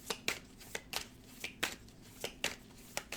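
Tarot cards being shuffled by hand, heard as a string of about eight short, crisp riffling bursts at an uneven, steady pace, close and fairly quiet.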